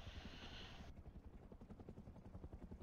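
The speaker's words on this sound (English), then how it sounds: "I just didn't want to listen to the helicopter." A helicopter flying in the video game Rust, its steady low rotor thump pulsing throughout at moderate distance, with a higher hiss cutting off after the first second.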